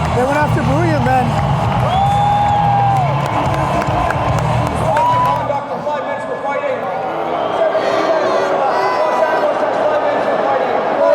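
A packed arena crowd at an NHL hockey game cheers and whoops loudly, with whistles rising over the roar, then settles into a steady, busy murmur; voices talk nearby.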